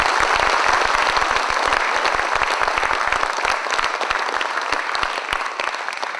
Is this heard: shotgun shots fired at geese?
no